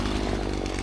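A chainsaw engine revs hard and steady, loud and close, with a dense buzzing roar that holds throughout the short burst.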